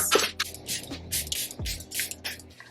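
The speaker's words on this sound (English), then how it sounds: "I'm going to go in with the setting spray to actually set the makeup in place" Several short hissing spritzes of a makeup setting spray bottle onto a face, fairly close, each burst brief and separated by small pauses.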